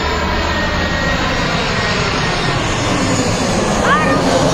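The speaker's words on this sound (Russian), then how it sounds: "И по звуку он похож на Аэробуса" Steady broadband jet rumble fills the clip, an Airbus A320 airliner droning low overhead above a rooftop in Adler at constant loudness, with faint voices underneath.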